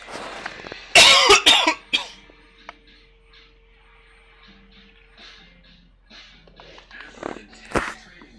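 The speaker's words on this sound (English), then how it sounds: "I hope when I cough, guys, it's not really loud on you guys." A man coughs hard several times in a quick cluster near a microphone, followed by quieter throat sounds and one more sharp cough later, with long stretches of near silence between.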